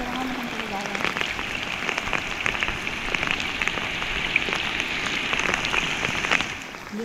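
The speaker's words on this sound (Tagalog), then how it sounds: "Ngayon na nga ang ulan." Heavy rain falling steadily on a rural provincial surface, a dense loud patter of drops continuing throughout with occasional sharper splats and no voices.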